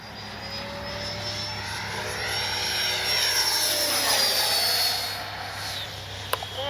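Freewing 90mm F-22 RC jet on 6S power flying past overhead, its electric ducted fan whine rising and sweeping in pitch as it approaches and passes, then fading, over steady background hum.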